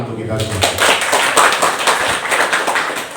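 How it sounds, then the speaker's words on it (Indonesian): Audience applause at the opening of a school teacher training program, a dense wash of many hands clapping right after the host's speech ends, steady and fairly loud throughout with a little voice at the start. "Tepuk tangan untuk kita semua"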